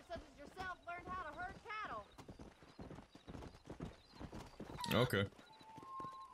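Horse hooves clip-clop in Red Dead Redemption on Xbox One, a quick rhythmic run of hoof beats with a brief whinny, played under frequent talk from a man.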